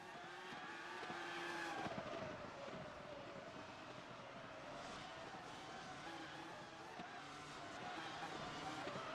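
Race cars on a track in a racing video game, a steady high engine whine with shifting pitch as cars pass, continuous and fairly faint throughout with no clear talk.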